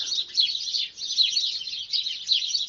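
Many birds chirp and trill in a garden full of honeysuckle, jasmine, passion flower, roses and brambles, a dense, continuous chorus with no other sound beneath it.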